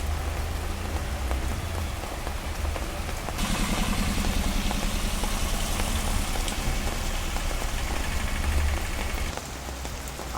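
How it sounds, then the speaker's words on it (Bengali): Heavy rain pours from a cloud-covered sky onto a flooded street, a loud continuous roar of drops that swells midway and eases near the end, with a faint engine-like rumble beneath. "প্রচুর মেঘ হয়েছে বৃষ্টি হচ্ছে"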